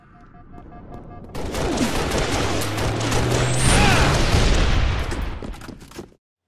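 Rapid gunfire from the Halo: Reach video game rattles in a dense, sustained burst, loud and close, swelling over several seconds before cutting off abruptly.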